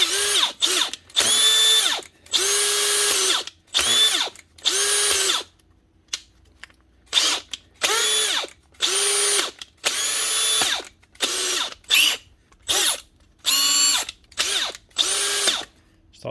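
A Makita DHP489 cordless drill fitted with a second-hand replacement chuck from a DHP458 whirs loudly in a series of short, repeated bursts separated by brief pauses, with ratcheting from the chuck, close and alone.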